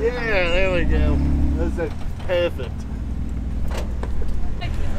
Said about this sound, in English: the Jeep in front is going to go ahead and yank him up this hill here